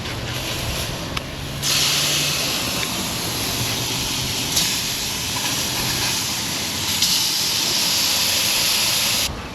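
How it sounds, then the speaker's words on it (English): Salmon fries in a pan on a camp stove during solo van camping, a loud continuous hiss and sizzle that swells and holds steady for several seconds, close by and without talk. "we're going to flip the salmon"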